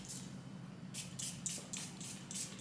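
Rose of No Man's Land perfume is sprayed in a quick run of about five short, airy hisses from an atomizer, close and soft, following a brief earlier puff.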